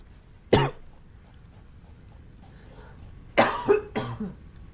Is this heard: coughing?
yes